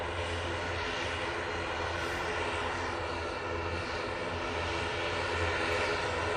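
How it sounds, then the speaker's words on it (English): An Aer Lingus ATR 72 turboprop bound for Belfast drones loudly and steadily with a low propeller hum and broad engine roar, close by and with no talk over it. "Aer Lingus prop. Going off to Belfast using the ATR 72."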